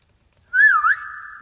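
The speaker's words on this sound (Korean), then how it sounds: "가이드를 보면은 휘파람 소리들이 여기 있네" A short whistled phrase on a guide vocal recording, a single clear tone that bends up and down and then holds steady, alone in silence.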